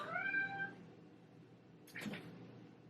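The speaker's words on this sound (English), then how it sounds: "meow his head off because he wants to go outside" A pet cat meowing indoors, one drawn-out plaintive meow at the start and a shorter, fainter cry a moment later, quiet and somewhat distant.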